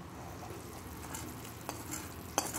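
Sugar syrup for Rajasthani besan chakki being stirred in a pan just off the heat, a steady soft scraping and swishing that stays close and even, with one sharper clink near the end.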